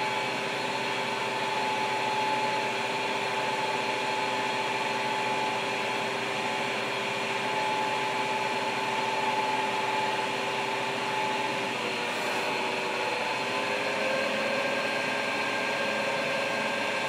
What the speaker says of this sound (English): Again, what you're hearing is a coolant pump.